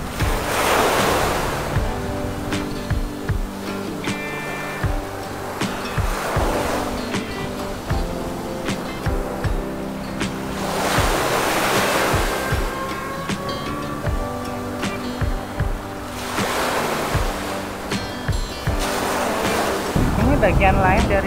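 Ocean waves break and wash over a long pebble beach at Cisolok, Pelabuhan Ratu, with loud surges rolling in every few seconds and stones rattling as water drains back, under steady wind.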